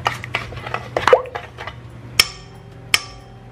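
Egg and vanilla being mixed together in a bowl for star bread dough, with a utensil clinking and scraping against the bowl in irregular knocks and two sharp taps near the end.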